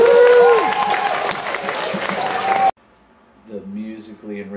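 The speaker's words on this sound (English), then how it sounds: "Let's give Group C a round of applause." A group of kids gives a short burst of applause after a rhythm exercise, lively clapping mixed with crowd noise and a sustained tone that cuts off abruptly, followed by a voice speaking.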